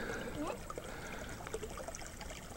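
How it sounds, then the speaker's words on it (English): Creek water trickles over rocks in West Gippsland, a faint, continuous babbling with small splashes, heard alone. "we're at a new creek today,"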